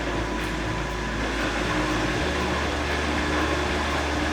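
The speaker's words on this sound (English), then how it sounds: "Okay, blender's going on." A blender runs steadily, whirring through apples being pureed for homemade applesauce, a dense continuous motor roar that holds without pause from start to finish.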